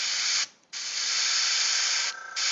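An airbrush sprays ink onto painted miniatures in a steady, close, bright hiss, cut off by two short pauses as the trigger is released and pressed again.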